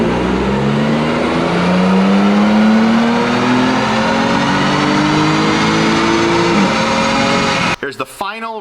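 A car engine on a dyno running E17 fuel blend pulls hard through a long, loud, rising rev with steady climbing pitch, then cuts off abruptly, followed by a brief clunk.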